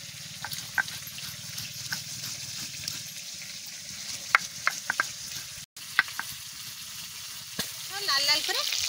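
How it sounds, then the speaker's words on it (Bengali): Fish frying in a pan gives a continuous close sizzle, broken by sharp clicks and taps of stirring, with a brief voice near the end. "লাল লাল করে মাছ ভাজা করে নিচ্ছি"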